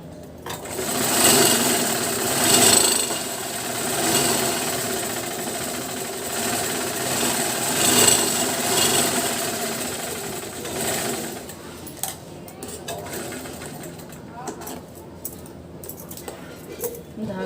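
A sewing machine runs steadily while stitching a double katori blouse, its motor whirring in close, continuous bursts that ease off toward the end as faint handling noises take over.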